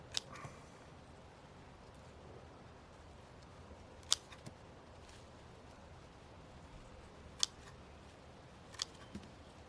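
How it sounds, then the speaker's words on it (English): Garden secateurs snip back flowers in a handful of sharp, isolated clicks spread across a quiet outdoor background, faint overall with no talking. "cut these flowers all the way back."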